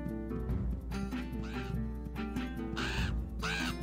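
Birds squawk and caw in The Grinch video game on Dreamcast, a string of harsh, nasal cries arriving in quick bursts over looping game music, fairly close and prominent.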